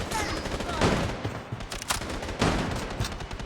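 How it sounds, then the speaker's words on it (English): In the shooter game Blood Strike, gunfire crackles through a dense, steady wash of battle noise, with repeated sharp bursts of shots close together throughout. "আশেপাশে তো গুলি চলতেছে"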